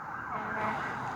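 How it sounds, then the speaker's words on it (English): Fire truck sirens wail through the city, a steady rising and falling tone that sounds somewhat distant and fills the whole moment with no other sounds. "now hear the fire trucks"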